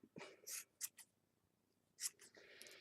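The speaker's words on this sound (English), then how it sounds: "I will get the scissors." Scissors snipping through hair weave during doll or craft work, a few sharp separate cuts in two short clusters, close but fairly quiet, with no talking.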